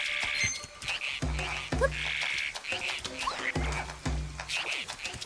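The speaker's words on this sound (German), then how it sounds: "Da sitzt ein Frosch und macht Musik." A frog in the video game The Legend of Zelda: Echoes of Wisdom makes music, repeating rhythmic croaking, plucky tones in short looping phrases over a game soundtrack, fairly close and clear.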